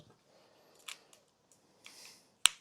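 Scissors snip through wire in a workshop with a few faint, sparse clicks, then one sharp, close cut stands out near the end amid quiet.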